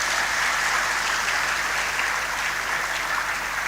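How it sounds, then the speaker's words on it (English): Sustained applause from an audience of students at an induction programme at NITK Surathkal, a dense, even wash of clapping that stays loud and steady throughout with no voices on top. "Please clap for yourself for your success being in this NITK Surathkal."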